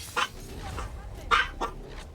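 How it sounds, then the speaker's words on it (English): A dog barks in the background of a home setting, about four short, sharp barks spaced irregularly, moderately distant and not very loud. "Sorry about the dog."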